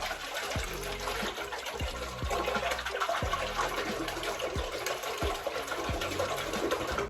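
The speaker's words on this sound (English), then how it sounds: "mixing in this wool soak" Wool soak being stirred into water makes a steady watery swish with soft rhythmic thumps about every half second, close by and moderately quiet.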